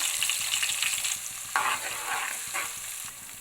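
Onion paste fries and sizzles in a pan for a fish curry, a close, steady hiss with scraping stir strokes and small spatters, no talking.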